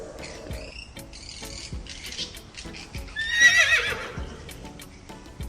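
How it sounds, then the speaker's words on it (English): A horse neighs in a loud, quavering whinny, preceded by hoof clip-clops and a steady chorus of crickets in the background. "horse,"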